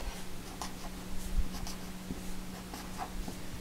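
Pink highlighter marking printed text on paper, a faint, close, soft scratchy rubbing in short strokes over a quiet room hum.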